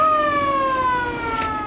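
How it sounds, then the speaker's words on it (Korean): A siren sounds at the start of Air Force parasail survival training outdoors, a single loud steady wail with a slowly falling pitch and bright harmonics, heard alone. "드디어 사이렌 소리와 함께 파라세일 훈련이 시작됩니다"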